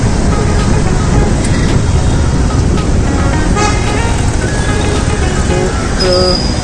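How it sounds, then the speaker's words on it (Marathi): Heavy road traffic on a busy city street near Krishna Chowk in Sangvi fills the scene with a loud, constant roar of engines and occasional horn toots close by. "एक मोठ्या ट्रॅफिकमधनं बाहेर निघलेलो आहे आपण"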